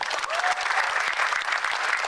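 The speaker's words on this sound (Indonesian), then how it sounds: "tepuk tangan yang meriah" Studio audience at a televised Indonesian stand-up comedy show bursts into loud, sustained applause, a dense wash of clapping that fills the whole stretch without letting up.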